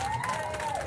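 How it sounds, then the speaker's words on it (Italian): Applause from a live concert audience at an outdoor evening show in Cuneo, a dense continuous wash of clapping and crowd noise with a faint whistle-like tone rising and falling over it. "È bello sentire questi applausi."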